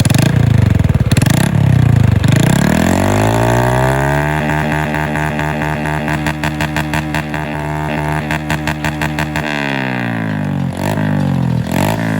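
A close 2021 Honda Wave 110 motorcycle engine with a 53 mm bore kit and aftermarket exhaust revs repeatedly, rising to a sustained high rumble and dropping back to a fast, choppy idle. Nothing else is heard.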